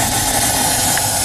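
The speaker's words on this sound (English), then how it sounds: "we're going to start blowing lines out." Compressed air blasting steadily through a cabin's open water lines during winterizing, a loud, continuous close hiss with no pauses.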